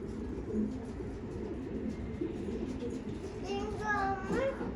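Pigeons coo in low murmuring calls close by, steady throughout, with higher chirps near the end and a voice faintly in the background.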